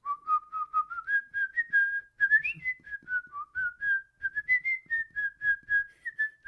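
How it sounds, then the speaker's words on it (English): A man whistles a wandering tune outward, a clear sustained melody of many short notes with a brief pause midway, close and alone without talk. "I can whistle out."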